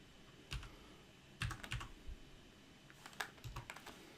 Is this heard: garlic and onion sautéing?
no